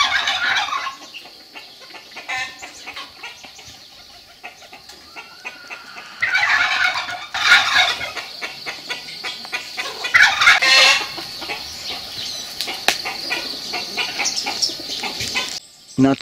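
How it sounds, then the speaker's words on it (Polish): Chickens and turkeys on a small mission farm on Flores island, a busy mix of clucking and repeated gobbling bursts, some loud and close, others softer, continuing throughout. "Drób, indyki, gęsi, kury, kaczki, gołębie,"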